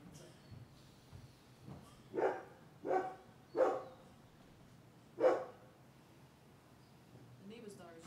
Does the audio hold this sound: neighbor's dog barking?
yes